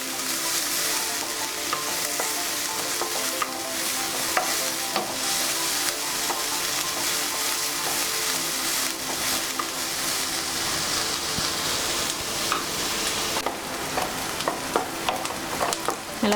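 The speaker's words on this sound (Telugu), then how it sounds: "అలానే పచ్చిమిరపకాయలు వేసుకొని ఫ్రై చేసుకుందాం" Green chillies frying in oil in a pan for a mango prawn curry, with a steady, loud sizzle and occasional stirring scrapes throughout and no speech.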